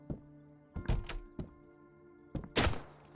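Sharp gunshot-like impacts in the game Road to Vostok as the player is hit from below, several dull thumps spaced across a few seconds, with a louder, broader burst near the end over a steady low background hum.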